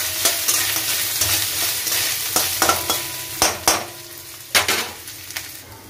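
Grated coconut frying in a pan and stirred, with steady sizzling and repeated sharp scraping strokes of a spoon against the pan, close and loud, no talking.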